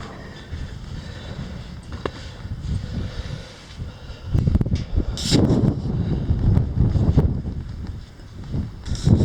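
Gusty wind buffets the microphone at an abandoned mine site with ore crushers, rumbling in uneven bursts that grow stronger in the second half, with a faint steady high hum underneath.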